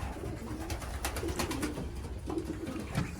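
Racing pigeons in a loft give soft, low cooing calls, several short coos repeating close by over a faint rustling, roomy background.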